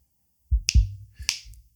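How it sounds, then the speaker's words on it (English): Two crisp finger snaps, close and sharp, about half a second apart, with a brief low thump under each and silence around them. "Snap your fingers."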